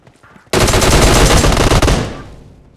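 Close, loud burst of automatic gunfire in PUBG Mobile, a rapid stream of shots lasting about a second and a half after near silence, then trailing off in echo.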